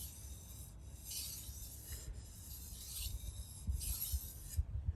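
A knife edge honed on a King Deluxe 1200 grit whetstone, with three or four slow, rhythmic rasping strokes of steel across wet stone, close and moderately quiet, taking off the burr.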